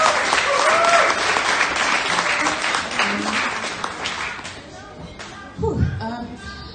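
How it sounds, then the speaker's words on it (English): Guests at a 21st birthday party clap warmly in a close, lively burst that fades gradually, with scattered voices and chatter coming through near the end. "can we just give them a round of applause?"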